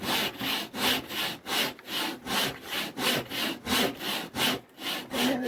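A kerfing plane saws into wood in steady back-and-forth strokes, about two per second, a close rasping rhythm with no talking.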